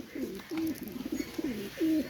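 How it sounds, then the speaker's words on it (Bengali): A female Teddy pigeon coos in several soft, rolling phrases, close and fairly quiet, with short pauses between calls. "এটা হলো মাদি কবুতর।"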